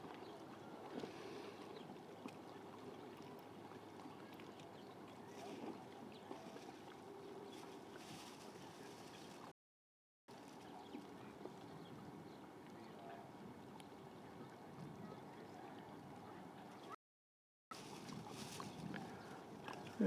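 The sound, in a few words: boat exiting a harbor channel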